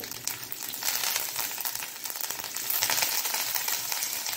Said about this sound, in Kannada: ಈಗ ಅದಕ್ಕೆ ಒಂದು ಚಮಚದಷ್ಟು ಸಾಸಿವೆ ಹಾಕೊಳ್ಳೋಣ